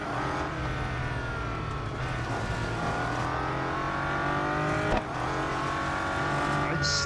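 A race car engine in Real Racing 3 drones and climbs through the revs for several seconds, a loud, continuous whine with shifting pitch and a brief bump midway, heard up close without a break.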